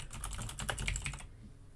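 Keys on a computer keyboard clatter in a quick, close burst of typing while a note is entered on a map, stopping abruptly toward the end, with no talk.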